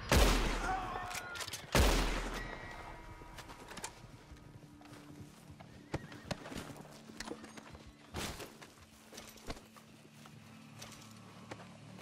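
Horse hooves clip-clopping with sharp irregular clatters and thumps, loudest in two heavy bursts near the start and then scattered through, no clear neigh evident.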